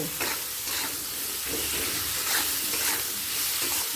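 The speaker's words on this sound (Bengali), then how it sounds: "আদাটাকে ভালো করে আলুর সাথে কষিয়ে নেব" Potatoes with ginger paste sautéing in a pan give a dense, even sizzle, with soft scrapes of stirring throughout.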